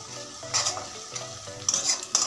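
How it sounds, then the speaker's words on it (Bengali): Chopped onions fry in a pan with a low sizzle, punctuated by a few sharp scraping stirs of a utensil against the pan, close and fairly quiet. "পেঁয়াজটা ভালো করে ভেজে নিচ্ছি"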